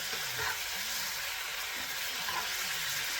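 Lamb's fries sizzle steadily in a hot pan as they are flicked and turned, a close, continuous frying crackle with soft scraping stirs every second or so and no talking.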